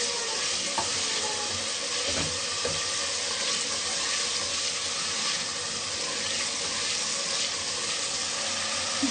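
Masala with dried fenugreek leaves and a splash of water sizzles and fries in a pan for Pakistani kadhi pakora, a dense, steady hiss close by, broken by occasional scrapes and clinks of stirring.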